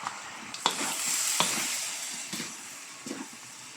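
Pork menudo frying in its own rendered fat, stirred with a utensil: a steady close sizzle broken by several sharp scrapes and clacks against the pan, with no talking.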